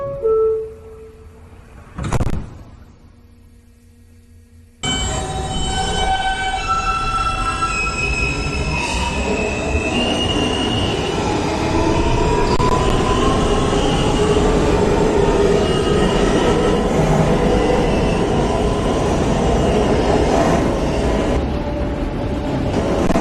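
A Queens-bound N local subway train on the Broadway Local gets underway with a sudden roar, then runs loud and steady with wheels squealing high and shrill along the rails, heard from inside the car.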